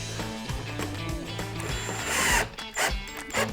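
MEV ventilation unit being fixed down through a foam pad, close mechanical whirring of a screwdriver driving a screw in with ratcheting clicks and tool rattle, steady then stopping and restarting near the end.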